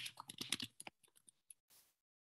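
Quick bursts of keystrokes on a computer keyboard, then a few slower, spaced taps and a soft final rustle, close and fairly quiet with no talking.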